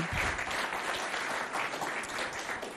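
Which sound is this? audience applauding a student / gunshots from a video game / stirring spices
audience applauding a student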